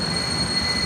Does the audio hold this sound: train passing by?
yes